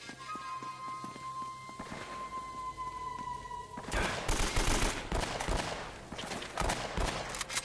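Gunfire in Uncharted: Drake's Fortune: a quiet stretch with a steady tone gives way to a loud, sustained fusillade of rapid shots and impacts that continues to the end.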